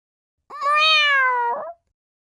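A single clear cat meow, about a second long and close, with a rising then gently falling pitch, alone in silence.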